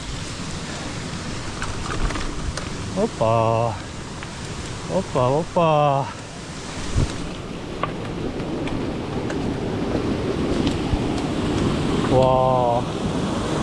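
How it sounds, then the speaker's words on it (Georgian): A small waterfall ahead on a mountain bike trail gives a steady rush of falling water that swells as it comes closer, while people let out a few short exclamations. "აუ იქ წინ რაღაც პატარა ჩანჩქერივი ჩანს."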